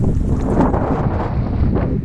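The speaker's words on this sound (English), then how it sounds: "And now the wind has decided to come up." Wind gusts buffet the microphone at an alpine lake in Colorado, a loud, continuous low rumble with no other clear sounds.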